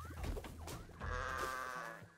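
A sheep in the video game Bang-On Balls Chronicles lets out a drawn-out, wavering bleat, loud and close, after some shorter game sounds, with no talking over it.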